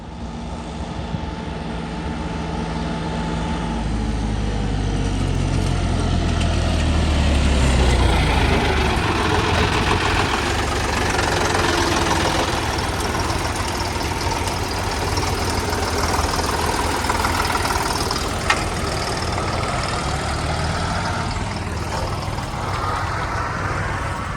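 A John Deere tractor engine runs during a paddy harvest, a loud, steady diesel rumble with a deep low drone that shifts early on, then holds constant, close by and without talk.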